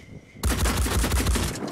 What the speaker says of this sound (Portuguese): Errou todos os tiros.